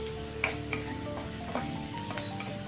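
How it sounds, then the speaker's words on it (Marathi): Onions and peas fry in a hot kadhai for a spicy Maharashtrian matar bhaji, giving a steady low sizzle with a few soft clicks of stirring throughout. "कारण कढई आपली छान अशी तापलेलीच आहे वाटाणे भाजल्यामुळे कांदा जो आहे तो लगेचच भाजला जाईल आपला"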